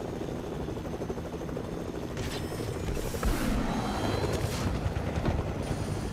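A helicopter flies in Fortnite gameplay: a continuous low rotor rumble with rhythmic chopping holds steady throughout and swells slightly midway, without any voices.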